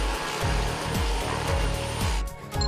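A household vacuum cleaner runs during dog training at home, giving a loud, steady whooshing motor roar with a rhythmic low pulsing as it is moved back and forth, with no talking.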